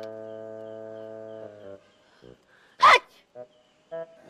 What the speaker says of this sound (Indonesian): bersin gak habis-habis